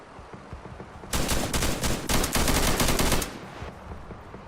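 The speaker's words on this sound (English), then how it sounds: "stop with the firing" Video game gunfire comes as one loud, sustained burst of rapid automatic shots, lasting about two seconds close up over a low background, then cutting off.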